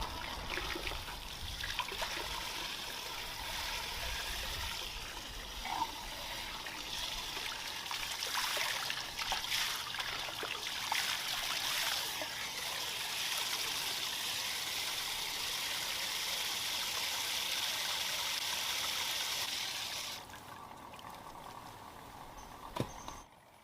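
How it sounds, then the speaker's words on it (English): Water trickling and flowing steadily in a garden fountain outdoors, a continuous close splashing stream running for about twenty seconds before dropping off near the end. "The water is definitely flowing."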